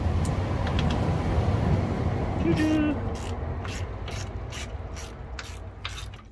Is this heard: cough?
no